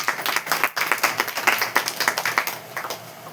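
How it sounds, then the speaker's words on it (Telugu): A church congregation clapping together, a dense run of hand claps in a quick, fairly steady rhythm, moderately loud in a reverberant hall for a few seconds. "గట్టిగా చప్పట్లు కొట్టండి ఒకసారి"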